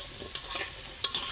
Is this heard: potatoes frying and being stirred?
yes